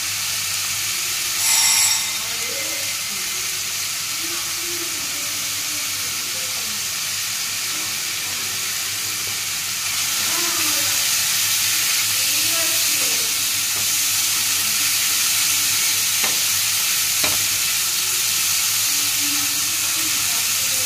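Chana masala spices frying and being stirred in a pan for chickpea dal, a steady sizzle and hiss running throughout with faint scraping stirs, close and moderately loud.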